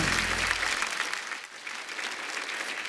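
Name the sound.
audience applause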